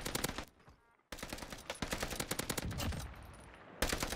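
In a Warzone video game match, rapid bursts of automatic gunfire crackle loudly in quick succession with brief pauses between volleys.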